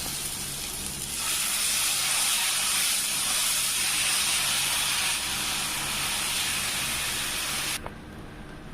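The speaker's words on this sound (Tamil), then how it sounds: "நம்ம இதில் தோசை ஊற்றிக்கலாங்க" Moong dal dosa batter poured onto a hot griddle gives a loud, steady hiss that rises after a second and holds for several seconds before dropping away near the end.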